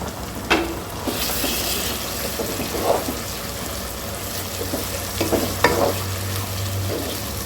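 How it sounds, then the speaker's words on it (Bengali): Raw green chilli spice paste sizzles and fries in a pan for green chilli chicken, with a steady close hiss broken by a few stirring scrapes and clinks, no voices. "এইভাবে কষিয়ে নেবো এতে কাঁচা গন্ধটা চলে যাবে"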